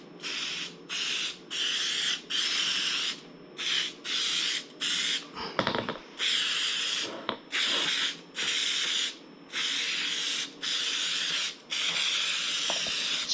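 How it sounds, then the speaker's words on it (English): Spray adhesive hisses from a can onto a motorcycle seat pan in repeated bursts of one to two seconds, separated by short pauses, with a brief clatter midway, close and steady throughout. "for 2 surface bonding, you can spray both surfaces."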